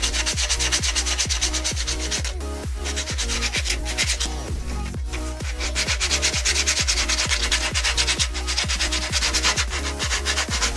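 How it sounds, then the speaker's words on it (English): Sandpaper rubs over a 3D printed Iron Man Mark 50 cosplay part in fast, regular back-and-forth strokes, loud and close, with a short pause partway through. "And I just hit it with the sandpaper again."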